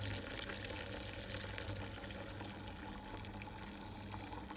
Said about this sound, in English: We're now draining it into the fermenter